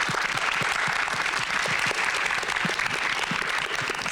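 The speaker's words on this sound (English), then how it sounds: "let's give a round of applause to our panelists" An audience at a panel discussion on ahimsa and ending violence gives the panelists a round of applause, a full, steady patter of many hands clapping without pause.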